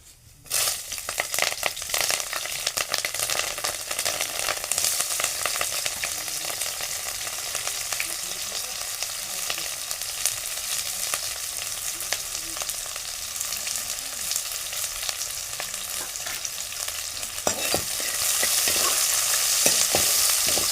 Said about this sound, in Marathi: आणि आता कढीपत्ता, मिरची आणि कांदा हे मी त्याच्यात टाकणार आहे.